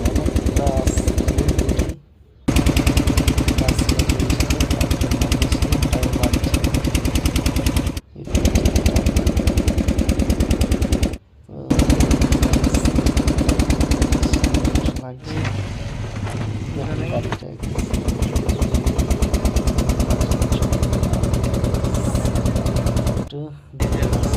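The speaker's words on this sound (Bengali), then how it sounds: "নৌকার আওয়াজ" A loud, rapid putt-putt of a boat engine on a river runs continuously up close, harsh and rattling, with a few brief dropouts.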